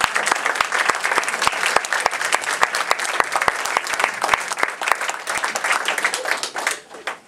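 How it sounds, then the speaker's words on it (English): Audience applause at a radio-themed presentation, a lively crowd clapping with sharp individual claps heard up close, fading out at the very end. "Let's have a round of applause to Cash."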